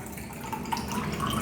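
Tap water running into a neti pot, a steady close trickle and splash that rises slightly as it fills, with no voices.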